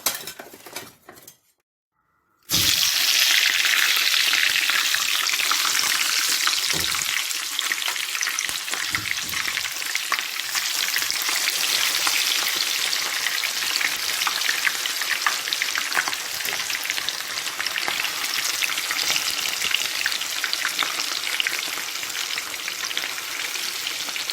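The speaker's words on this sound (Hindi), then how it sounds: "हम एक पैन लेंगे, उस पैन में ऑयल गरम करेंगे और इस फिश को उसमें ऑयल में डाल देंगे।" Marinated fish fries in hot oil in a pan, a loud, dense, continuous sizzle that bursts in suddenly after a brief quiet moment and holds steady, with occasional faint clinks of utensils.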